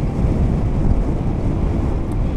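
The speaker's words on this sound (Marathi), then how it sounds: "पण वारा पण खूप येतो आहे." Strong wind rushing and buffeting, a loud low rumble that stays steady throughout with no voices.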